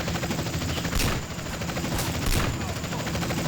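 A country rifle fires in GTA San Andreas, with three sharp gunshots spread over a dense, noisy game soundscape. Constant background clatter runs underneath, and a voice may be speaking faintly.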